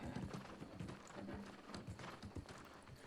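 Hooves of a horse mount clip-clop in an even trotting rhythm in the video game New World, a fairly quiet, steady patter of close hoofbeats throughout.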